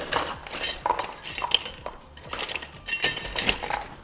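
Metal utensils clink and clatter in short, irregular bursts as someone rummages through a kitchen drawer for a donut cutter, close and fairly quiet, with no talk.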